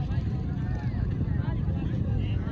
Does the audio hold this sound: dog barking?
no